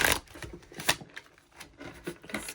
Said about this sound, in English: I am going to give this a good shuffle since I did not do that in the beginning